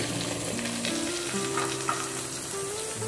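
Bottle gourd pieces are stirred in hot oil, producing a continuous close sizzle with soft scraping movements and faint tonal hum underneath, and no speech.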